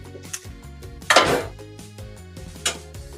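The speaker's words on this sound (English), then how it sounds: "Let's get another spoon out." Metal spoon and utensils clattering in a kitchen while plating broccoli, noodles and short ribs: a few separate clinks and one louder rattling clatter, close and alone without talk.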